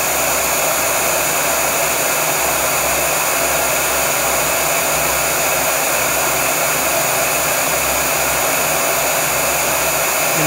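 An electric heater fan runs on its heat setting, powered by a Ryobi 40V 1800W power station, giving a loud, steady, unbroken whooshing blower roar close to the listener with no talk.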